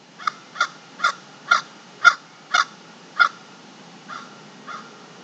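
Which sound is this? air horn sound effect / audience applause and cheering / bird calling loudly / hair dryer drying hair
bird calling loudly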